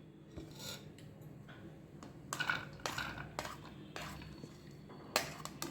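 Chopped capsicum, onion, coriander and tomato are tipped into a kitchen bowl, giving scattered clinks, scrapes and soft thuds of utensils against the dish, with quiet gaps between the bursts.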